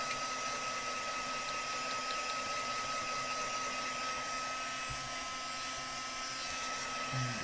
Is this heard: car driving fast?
no